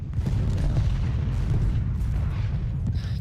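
Dull artillery booms rumble steadily and low in the Ultimate General Gettysburg video game, forming a continuous heavy barrage.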